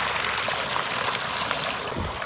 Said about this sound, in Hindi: ये ट्यूबवेल से निकला हुआ पानी है